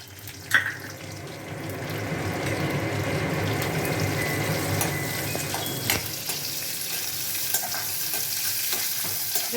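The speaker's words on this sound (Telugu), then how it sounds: "ఇప్పుడు ఉల్లిగడ్డ వేద్దామండి" Chopped onion goes into hot oil in a pan for a quick meal-maker curry. A sharp clatter starts a loud, steady sizzle with stirring, which drops away near the end, leaving faint scraping and clinks.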